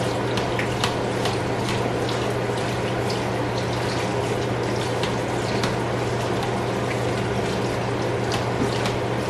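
Water runs steadily into a cooking pot for a rinse, a continuous close splashing rush with a low steady hum beneath, no talking.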